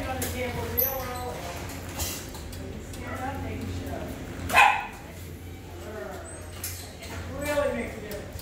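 Italian Greyhound puppies yipping and barking in short, scattered high bursts, one sharper bark standing out midway, with people talking throughout.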